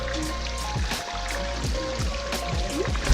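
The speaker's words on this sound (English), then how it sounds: "you can see the water is flowing from the steps. Actually, it's kind of like a waterfall" Water spills down stone steps like a small waterfall on a monsoon trek to Korigadh Fort near Mumbai, a close, steady trickling and splashing flow with no voices.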